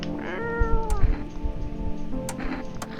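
A cat meows loudly and close by, a few drawn-out, wavering cries in quick succession with some rustling around them.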